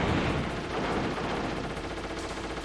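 Enemy gunfire in Metal Gear Solid: The Twin Snakes, a sustained loud burst of automatic shots with heavy rumbling blasts.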